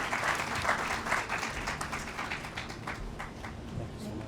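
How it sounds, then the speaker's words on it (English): An audience applauds steadily at an interfaith solidarity march in Los Angeles, many hands clapping at once in a sustained round that continues throughout. "Let's have a round of applause for Reverend Pat Strong Fargus."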